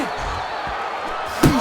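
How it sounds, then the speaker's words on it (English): A punch lands to the head in the boxing video game Fight Night Champion, a single sharp thud near the end over a steady murmur of arena crowd noise. "Scores well to the head with the right hand."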